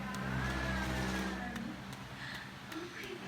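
A car engine with a knocking fault revs loudly at first, a sustained roar that eases into a lower running hum with faint intermittent taps, close by and without talk.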